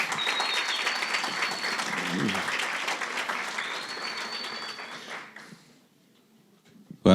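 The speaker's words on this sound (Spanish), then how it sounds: "un aplauso para José Luis ahí" An audience at a church money-management workshop claps in steady, full applause that lasts about five seconds and then fades out into near silence.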